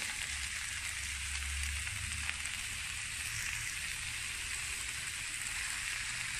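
Onion, carrot and cabbage fry in a pan, giving a steady, dense sizzling hiss that holds at an even level throughout with no voices.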